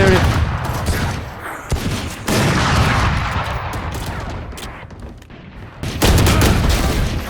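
Vandal rifle fire in a video game, dense loud bursts of shots in rapid succession filling the clip, with a few brief pauses between volleys.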